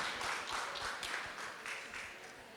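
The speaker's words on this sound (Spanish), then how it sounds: "los recibimos con un fuerte aplauso a nuestro hermano Ricardo Orellana y a nuestro hermano Marcelo Altamirano" Faint, distant audience applause welcoming two speakers at a church conference, a soft continuous wash of clapping with no voices on top.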